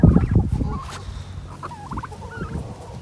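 Turkey gobbling at a farmyard animal encounter, a bright rapid burbling call repeated several times at moderate distance, with louder knocking and rustling noise at the start.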